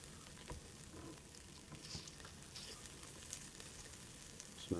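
Onions browning in a dry pan with no oil, a soft steady sizzle running low and even throughout, with a few faint scrapes and a louder clatter right at the end.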